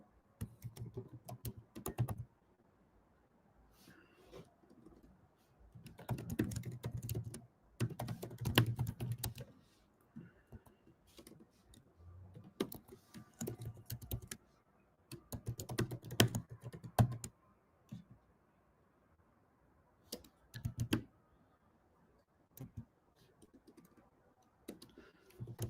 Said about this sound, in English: I'm going to type this out right now.